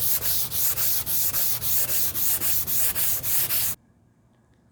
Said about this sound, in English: Finish with the sand along the grain of the wood.